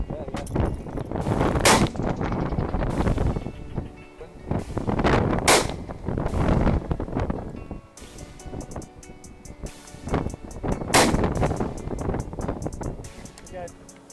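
Shotgun shots at pigeons in high wind: several loud, sharp blasts spaced a few seconds apart over heavy, gusting wind rumble, with voices faintly present.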